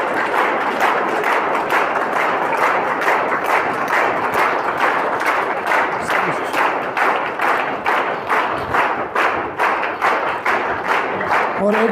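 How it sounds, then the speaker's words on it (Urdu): Students at a school Teachers' Day ceremony stand and clap for their teachers, a steady sustained applause of many hands filling the hall with sharp rhythmic claps throughout. "آپ تمام میرے بچے جو ہے کھڑے ہو کر تالیاں بجائیں"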